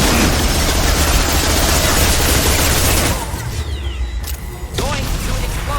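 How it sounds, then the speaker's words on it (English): A high impact shot fires in the Mass Effect video game, a loud dense burst of gunfire and booming impacts that abruptly drops to a quieter rumble, with a second sharp hit near the end. "Firing a high impact shot!"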